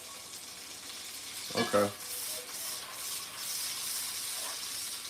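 Steak searing in a pan right after being flipped, a steady hiss of frying with a brief louder scrape near the start; a voice says a word once.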